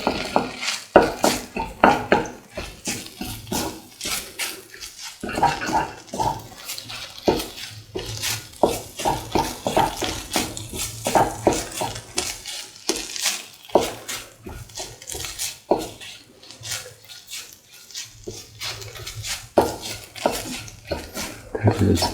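Eggs are whisked with salt in a bowl, giving repeated clinking, scraping strokes of utensil against dish in an uneven rhythm, with a person talking intermittently over the beating.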